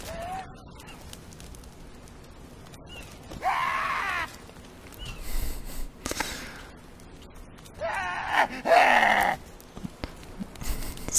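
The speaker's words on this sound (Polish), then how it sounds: "Straszne są te krzyki." Enemies in The Forest wail at night in shrill, bleating screams that come in separate bursts over a quiet, dark background, some close and loud, others fainter.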